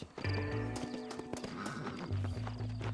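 A horse gallops with rhythmic clip-clop hoofbeats and a whinny in Red Dead Redemption, loud and close over a steady background of game music and ambience.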